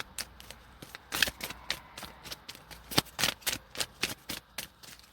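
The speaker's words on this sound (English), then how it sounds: "Then I'm going to pull a tarot." Tarot cards are shuffled by hand close up, a series of crisp riffling and snapping bursts in an irregular rhythm, with no talking.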